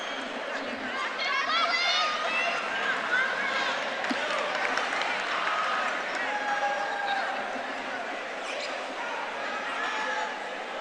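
A crowd at a women's college basketball game, Augusta Jaguars against Catawba, gives off a steady murmur of chatter and movement in a gym, with sneaker squeaks and shouts scattered through it and a commentator talking over the top.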